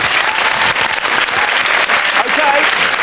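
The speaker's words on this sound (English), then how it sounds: "Round of applause." A BBC game show studio audience claps, loud and close with a dense, steady patter of many hands throughout.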